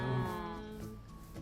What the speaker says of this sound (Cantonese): 隻羊要生多一次羊毛，先至夠做張床俾阿 Jason 玩。